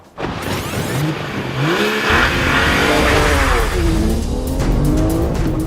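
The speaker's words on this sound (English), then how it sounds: "That's 110 mile an hour around that corner." A race car sweeps at speed through a corner on a circuit lap at about 110 mph, its engine loud and close as it rises and shifts through the revs, with tyre squeal over the top.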